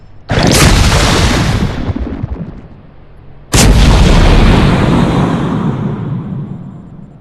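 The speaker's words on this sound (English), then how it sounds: "I'm just going to fire lasers" Starship lasers firing in the strategy game Sid Meier's Starships, two loud booming blasts a few seconds apart, each a sharp hit followed by a long rumbling decay.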